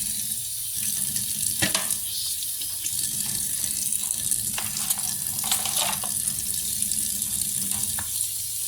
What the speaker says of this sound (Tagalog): tutulo, tatapon yung tubig dyan sa may, ano, ayan.